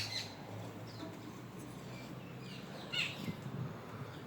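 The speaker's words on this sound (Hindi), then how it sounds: "ये पक्षियों की आवाज़ सुनो जरा, टूं टिंग टिंग, हल्की हल्की सी आवाज़ आ रही है" Faint birds chirp outside a balcony in misty Shimla, with a few thin, scattered calls high above a low, steady background hum.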